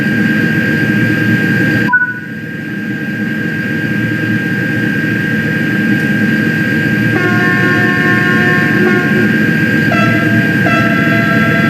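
A French TGV high-speed train pulls away from Avignon in the video game Train Sim World 3. A steady cab rumble and whine hold throughout, with a sharp click near the start and soft electronic tones later on.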